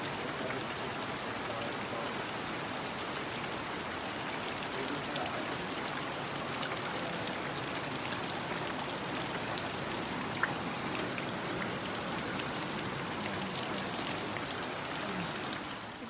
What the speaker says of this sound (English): Just walked out in the rain to see how much it was flooding.